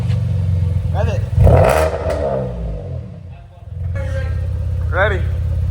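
A Chevrolet Camaro with a newly fitted exhaust revs up sharply, a loud rising roar and rumble that dips and then returns to a steady idle, with people talking over it.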